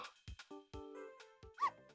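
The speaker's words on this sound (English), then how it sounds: "And the dog can talk to us through the wall." A dog in the Ghost Trick video game gives a few short, yappy barks and yips in quick succession, sounding small and close, mixed with brief game sound effects.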